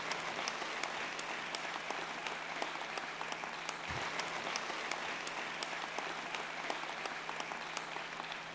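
An audience at a 2017 doctoral graduation ceremony claps steadily and evenly for several seconds, a dense wash of many hands with no voices standing out.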